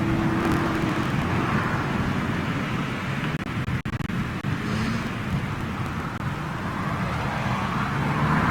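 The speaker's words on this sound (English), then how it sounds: "Still got his reversers deployed, look at that." An airliner landing at Amsterdam Schiphol with thrust reversers deployed gives a broad, steady roar that stays loud and continuous throughout.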